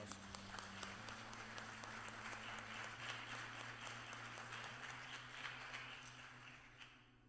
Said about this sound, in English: Give our youth choir another rousing round of applause.